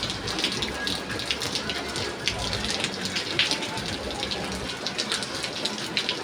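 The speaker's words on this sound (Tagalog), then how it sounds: "Maulan pala dito mga katropa." Steady midday rain pours down in a dense, continuous hiss with close patter of drops hitting surfaces, loud and unbroken throughout.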